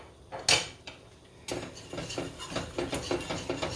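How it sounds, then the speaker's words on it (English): A whisk clatters quickly against a pan, beating flour and milk into gravy in a rapid irregular scraping and tapping rhythm after a couple of sharper knocks, close and moderately loud with no talk. "whisk that up, and you got gravy"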